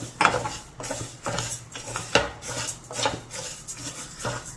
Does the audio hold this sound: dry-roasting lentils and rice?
yes